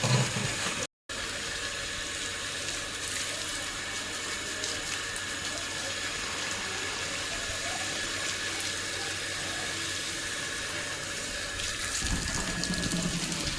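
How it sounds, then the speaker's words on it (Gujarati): Water from a motor pump runs steadily for bullocks to drink, a constant close gushing flow that carries on almost unbroken apart from a brief cut near the start. "ઘેર આવીને આપણે મોટર ચાલુ કરી દીધી. આપણે ગાડવાને પાણી પાઈ દઈએ."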